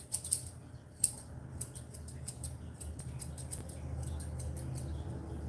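Scissors snip through a Coton de Tulear's fur during grooming, a quick series of crisp, close cuts in irregular bursts, denser early and thinning out, with soft rustling and no talk.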